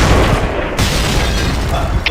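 A grenade blast in a shooter video game: a dense, booming burst with broadband noise through the whole short stretch and no clear separate hits, loud and close, with game effects layered over it.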